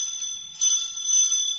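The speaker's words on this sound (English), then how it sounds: "Hey, the doorbell's ringing." A doorbell rings in an old radio drama, a sustained bright metallic ring that strengthens partway through and continues steadily, heard alone.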